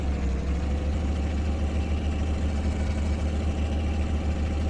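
An old farm vehicle engine in Farming Simulator 15, droning at a steady low idle with a constant throbbing rumble and no pauses, heard alone.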